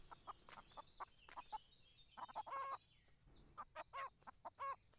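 A chicken in Everdream Valley on PlayStation 5 gives a series of quick, close clucks, some short and single, others in small bursts. The clucking is faint overall but clear against quiet.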